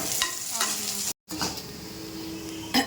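Pirandai (adamant creeper) sizzles and fries in hot oil in a pan for chutney, a steady close crackle with stirring scrapes and a brief gap, no talking.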